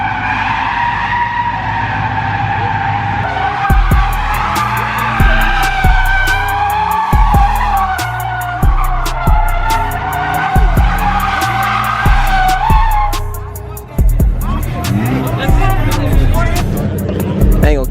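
A BMW 5 Series sliding at a car meet, its tires shrieking in a long sustained skid with engine roar and repeated sharp squeals, loud and close, over crowd chatter and music.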